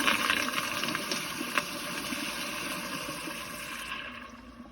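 A 2004 American Standard Cadet pressure-assist toilet flushes with a steady, fairly quiet rushing of water that holds evenly for several seconds before easing off at the end.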